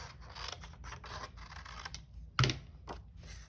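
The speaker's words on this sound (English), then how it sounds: "So I'm going to trim this one." Scissors trim paper for a cityscape collage, a single crisp snip standing out over faint rustling and handling noise at close range.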